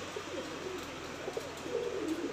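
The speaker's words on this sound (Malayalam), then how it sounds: "ഇവിടെ പ്രാവും കൂടെ ഉണ്ട് കേട്ടോ," Pigeons cooing near a cage by a fish farm, soft repeated low coos over a constant noisy outdoor background, close but modest in level.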